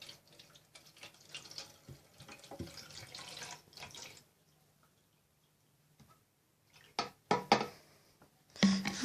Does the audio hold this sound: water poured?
yes